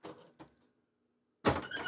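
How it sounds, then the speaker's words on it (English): A soundproof door in a home recording studio swings shut with a soft thud, followed by near silence, then a burst of nearby voices and room noise. "That's just one of the doors. And if we close this one."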